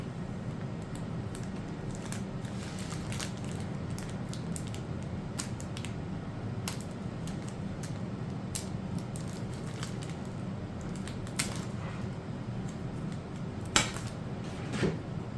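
Packing tape crackles and ticks as it is pulled from the roll, a long run of irregular sticky snaps and creaks close by, with no talking.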